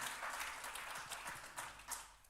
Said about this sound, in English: So we make a clap for him too